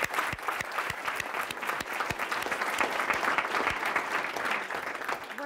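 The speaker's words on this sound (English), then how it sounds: "Big round of applause." Audience applause for panelists at a tech talent event, a steady crowd of clapping with distinct individual claps standing out, sustained throughout.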